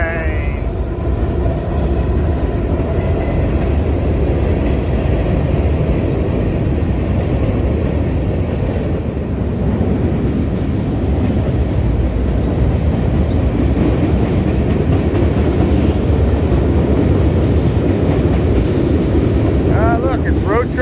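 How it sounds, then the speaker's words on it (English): A Delaware River Railroad excursion train near Phillipsburg, New Jersey rumbles past steadily for a long stretch, loud and close, with rolling rail clatter throughout. "Bonus train."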